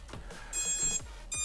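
An FPV drone, a VEYRON35 CR pusher, sounds its buzzer as the battery is plugged in: two high, steady electronic beeps mixed with soft clicks and thumps from handling, close up and with no talking.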